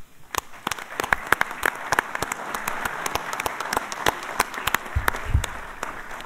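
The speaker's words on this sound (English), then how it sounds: "Please join me in thanking them with applause." Audience applause at a naval strategy conference session: a room of people clapping, with distinct sharp claps standing out over a steady patter, moderately loud and lasting several seconds.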